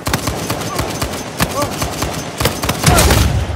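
Gunfire in the video game Uncharted: rapid bursts of shots and fusillades crackle close and loud throughout, with a heavier volley near the end.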